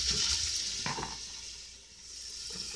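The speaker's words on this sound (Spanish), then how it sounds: "vamos a freír la longaniza" Longaniza sausage fries in a pan with a steady, hissing sizzle, close and continuous, with a few soft scrapes and stirring clinks.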